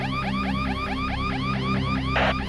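An alarm sounds in an office, a continuous electronic tone sweeping up repeatedly in a fast, steady cycle, loud and unbroken throughout with no voices.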